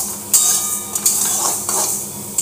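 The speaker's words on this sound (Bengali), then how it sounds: "আমি এক বাটি মুগ ডাল নিয়েছি, এটা ভেজে নেব" Mung dal dry-roasting in a pan, with a soft steady hiss broken by several sharp metallic scrapes and clinks of stirring, close and fairly loud with no talk.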